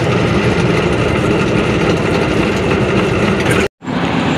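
Railway locomotive diesel engine idling at Havelian station on the ML-5 Taxila–Khunjerab line, a loud, steady low rumble close by that cuts out briefly near the end before resuming.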